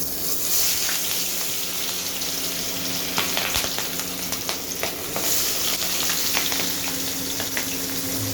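Hilsa fish pieces frying in hot mustard oil on full heat, a loud, continuous sizzle and crackle with occasional sharp pops and spatters close by.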